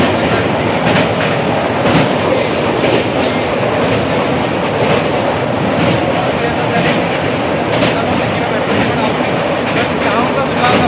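A train pulls into a station on a journey from Cuttack to Shirdi, its wheels clattering in a steady clickety-clack with faint squeals. The rolling noise stays loud and close throughout, with no talk over it.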